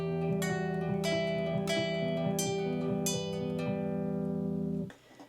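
Classical guitar plays a section of Romanza, a steady flowing arpeggio pattern of plucked notes over sustained bass tones, close and clear with no talk, ringing out and stopping near the end.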